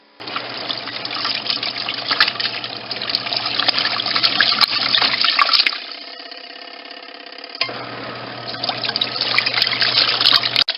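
A washing machine runs its rinse cycle with laundry detergent, steady rushing and trickling water under a low hum that briefly thins to a quieter gurgle before the flow resumes.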